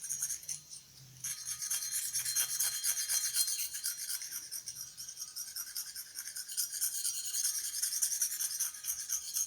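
A small knife scrapes residue off a chrome bicycle part from a Schwinn Stingray, a steady, close rasping that runs continuously with brief pauses, with no talking.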